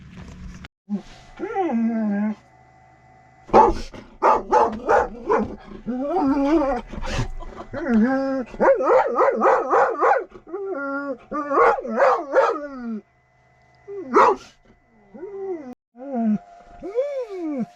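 Dogs playing outdoors bark, yip and whine over and over in an excited, uneven stream, sounding fairly close.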